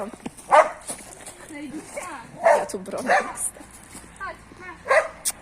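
A dog in a home garden gives short yelping barks and high whimpers in scattered bursts, close by, mixed in with people talking throughout.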